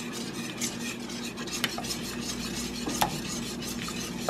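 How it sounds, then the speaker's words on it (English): A whisk stirs a thickening spiced cheese sauce for fried macaroni and cheese bites in a pot on the stove, a steady close scraping swish with a few sharper clinks of metal against the pan, no voices. "You want to make sure that you continue to whisk this so it does not scorch."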